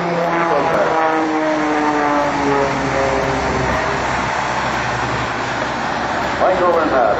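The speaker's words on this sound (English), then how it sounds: "flying behind the Lycoming Thunderbolt, the IO 580" A propeller airplane powered by a Lycoming Thunderbolt IO-580 engine flies at an airshow open house, its loud, steady engine drone shifting in pitch as it passes close by.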